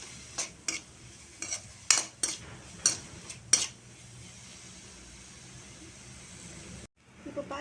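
Onions are sautéed and stirred in a pan, with a series of sharp spoon-against-pan clinks and scrapes over a faint background sizzle, then a quieter stretch with a brief drop near the end.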